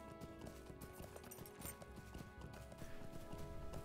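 Steady clip-clop of horse hooves while riding in Lord of the Rings Online, an even trotting rhythm that stays moderately loud over a soft game backdrop.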